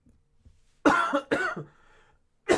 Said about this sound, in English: Sometimes I cough because I got a cold.